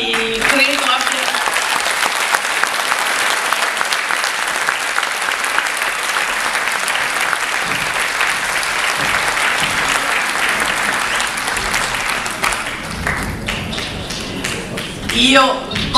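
Sustained applause from an audience at a FIDAS blood donors' festival evening in Bari, dense steady clapping filling the room for the full stretch, tapering slightly near the end with a brief louder burst.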